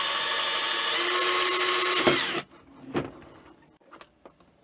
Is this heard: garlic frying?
no